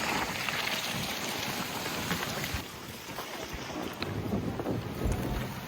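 Strong winter wind in snowy Hanover, Germany buffets the microphone in a continuous roaring rush, loud and close throughout.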